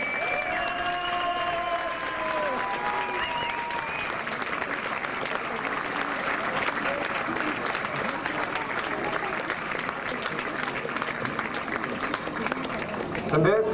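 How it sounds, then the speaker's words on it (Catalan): Sustained audience applause at a Santa Tecla festival presentation of the Ball de Titans during a trophy handover to the mayor, a dense steady roar of many hands with crowd noise and some speech mixed in throughout. "Oriol, un fort aplaudiment i l'alcalde per entrega del trofeu."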